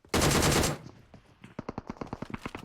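A loud burst of sustained automatic gunfire from PUBG Mobile, followed after a brief pause by a rapid string of distinct single shots, all heard close and without talk.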